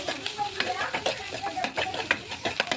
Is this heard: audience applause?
no